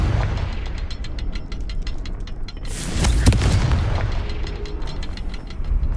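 Confringo blasting spell explosion in Hogwarts Legacy, a loud booming burst midway through over a steady game soundscape with rhythmic background effects.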